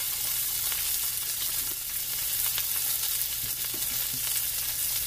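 Pork frying in a pan with chopped onions, seasoned with garlic powder: a steady, close sizzle with faint crackles runs unbroken throughout, with no talking.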